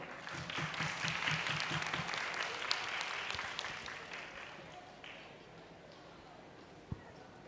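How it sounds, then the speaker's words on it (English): Applause rises from an audience at an award ceremony after a best speaker award is announced, a dense wash of clapping that is loud at first and gradually thins and fades toward the end. "The applause shouldn't be stopping."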